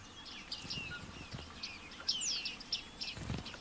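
Bearded tits call from a reed bed: a scatter of thin, high chirps and short tweets, some near and some farther off, spread over a soft outdoor background hiss.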